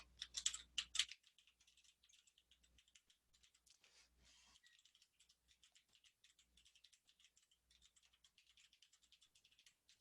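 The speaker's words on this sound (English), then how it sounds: "you're typing" Rapid, soft clicking of keys on a computer keyboard, continuous and fairly quiet, with a louder burst of taps at the start.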